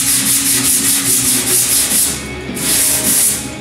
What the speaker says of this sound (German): werde ich dann den kompletten Rest anschleifen